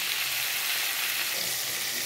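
Pieces of pointed gourd frying in hot oil in a pan, a loud, close, continuous crackling sizzle with no voices.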